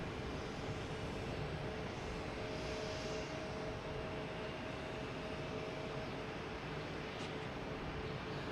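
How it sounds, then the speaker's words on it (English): An American Airlines A319 airliner heads out at Boston Logan Airport, a faint steady broadband engine roar held evenly throughout with no talk over it. "With American Airlines, another A319 heading to Philadelphia."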